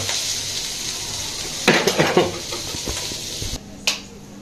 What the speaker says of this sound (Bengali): আবার পেঁয়াজ ভাজলাম, তাই তো?